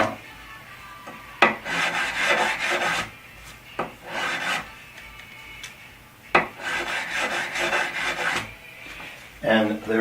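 A 300 grit file rasps across guitar frets in repeated close, loud strokes separated by short pauses, with a few sharp knocks of the tool between passes.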